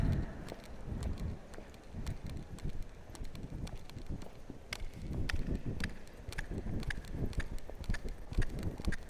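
A horse lopes at an arena clinic, its hooves beating a steady, rolling clip-clop on soft ground at close range, with low rumbling movement and wind underneath and no voices.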